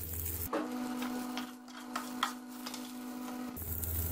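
Chicken frying in three to four spoons of ghee in a frying pan, a steady close sizzle with faint crackles and a sustained hum lasting about three seconds, with no talk.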